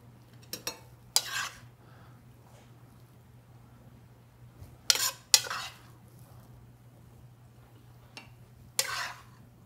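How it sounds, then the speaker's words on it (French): A spoon clinks and scrapes against a pan and plates while sauce is served out, several sharp metallic taps in short clusters over a quiet background hum. "Je prends une cuillère. Je vais faire mes assiettes."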